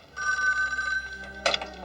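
An old-style telephone bell rings in a steady sustained trill, then breaks off with a brief burst of noise as the receiver is picked up, close and clear with no voices.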